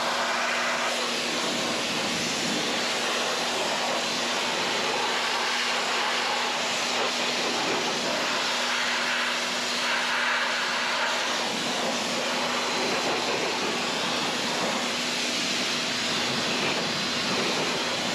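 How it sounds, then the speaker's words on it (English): A pressure washer sprays steadily to rinse acid wheel cleaner off a car wheel. The spray is a continuous, even hiss with a constant motor drone underneath, with no talking. "we'll hit it with the pressure washer"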